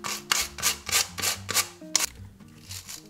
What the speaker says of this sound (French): On enlève les cheveux avec une autre brosse.